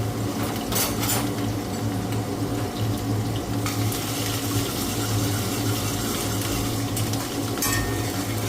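Onion fries in hot oil for a Gujarati dhambha vegetable curry, a dense, steady hissing sizzle that stays loud throughout, broken by a few brief scraping clatters, with no one talking.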